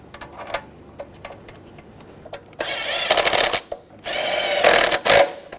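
Two bolts holding a solenoid valve being tightened on a 6.2L V8 engine of a 2011-2016 Ford F-350: quick clicks of a ratchet, then two longer bursts of rapid close ratcheting, no talking.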